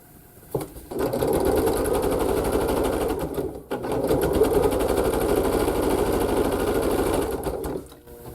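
Sewing machine stitching quilt pieces, running in two fast steady bursts with a brief pause between, close and loud.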